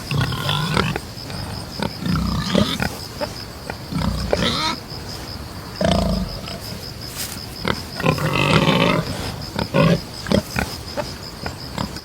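A wild pig with a short stocky body, thick sparsely haired skin and a warty face grunts and squeals in repeated close bursts over a constant high background whine.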